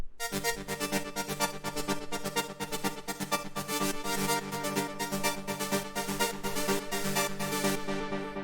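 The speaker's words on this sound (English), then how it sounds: "First sound we have here is the lead," A buzzy minimal techno synth lead at 125 BPM pulses in a fast, steady repeating pattern, dense and loud, with no voices over it.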